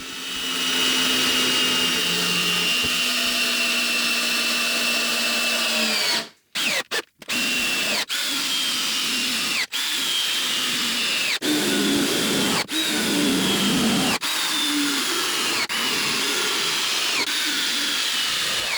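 A power drill drives fasteners into wood while building a strongback, a loud continuous whirring motor winding down, then repeated bursts of high buzzing separated by brief clicks and pauses.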